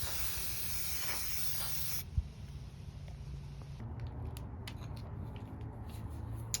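Rust-Oleum Chalked Serenity Blue spray paint hisses from an aerosol can in a loud continuous burst that cuts off abruptly after about two seconds, followed by quieter ticks, clicks and faint background noise.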